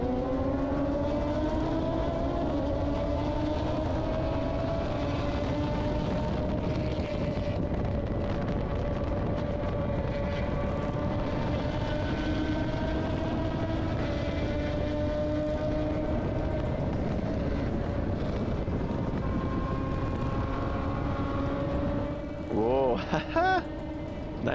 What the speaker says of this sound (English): because of the GoPro, you can hear more of the car ahead than my own car